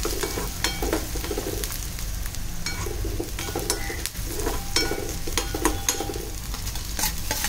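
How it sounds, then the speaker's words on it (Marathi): Curry leaves and onion spitting and sizzling in hot oil for a tempering, a continuous close crackle broken by sharp stirring clicks against the pan, with no talking. "कांदा चांगला लाल करायचा आहे. कढीपत्ता टाकला फोडणीला."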